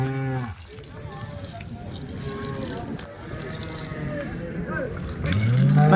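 Cows low at a weekly cattle market in Punganur, several drawn-out moos rising near and loud at the start and end, over busy crowd murmur and people talking.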